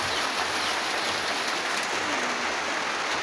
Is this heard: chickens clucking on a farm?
no